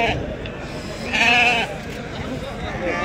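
A goat or sheep bleats once, close and clear, amid the steady chatter and background murmur of a busy livestock market in Azrou, with people talking throughout.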